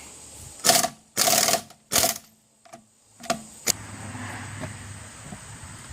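An impact wrench rattles lug nuts off the rear wheel of a 2002 Nissan Maxima in a garage, three loud buzzing bursts and then a few short clanks, followed by a low steady hum.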